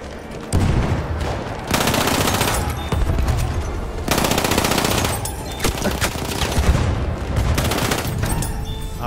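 Sustained automatic gunfire in a Battlefield 1 gunfight, loud rapid bursts with brief pauses running nearly continuously throughout, no talk over it.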